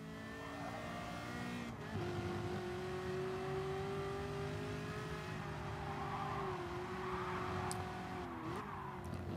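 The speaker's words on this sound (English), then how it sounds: "Here's the OP car," Renault Megane race car in Gran Turismo Sport, its engine holding a loud, continuous drone that rises and dips with throttle, a brief shift early on and faint tyre noise later.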